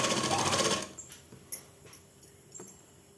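A tailor's sewing machine whirs briefly while stitching a sudithar pant, a short dense run that stops, followed by a few sharp clicks and taps.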